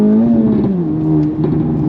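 Acura Integra Type S (DE5) with a tune and modifications, in Sport Plus mode, accelerating hard on throttle: a loud, close, continuous engine drone whose pitch stays steady and dips slightly midway.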